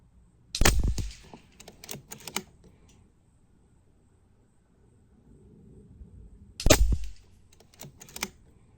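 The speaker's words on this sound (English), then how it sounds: "I'm going to do a 5-shot group with domed pellets." AirMaks Arms KRAiT .22 bullpup air rifle shooting 18-grain domed pellets: two sharp, loud reports about six seconds apart, each followed by quieter mechanical clicks and handling noise.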